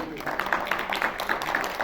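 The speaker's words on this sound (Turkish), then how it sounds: "Müzisyen kardeşlerimize de abilerimize de büyük bir alkış" Applause for the musicians after a Turkish folk minstrel's performance, a dense crowd clapping steadily throughout with an announcer's voice over it.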